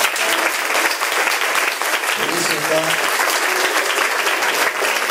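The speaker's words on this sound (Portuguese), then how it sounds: "Vamos aplaudir Jesus Cristo." A church congregation claps loudly and steadily throughout, while someone speaks briefly over the applause.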